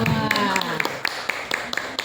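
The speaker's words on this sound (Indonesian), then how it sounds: "Tepuk tangan dulu beliaunya." Audience at an Indonesian community outreach session on online gambling and loan dangers claps for an honored guest, sparse hand claps ticking at a steady pace beneath ongoing speech and a faint tonal backdrop.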